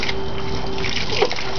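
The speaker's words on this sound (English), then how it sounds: "Wesley, are you watering the side of the house?" A young child sprays water against the side of a house outdoors, a steady hissing splash with a faint trickle and one brief louder spatter near the end.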